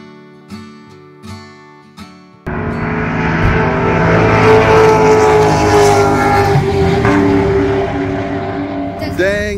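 Several trucks roll past loudly in a steady, broad engine-and-road roar that starts abruptly after a few seconds of quieter, clattery background noise, with a brief rising whine at the end.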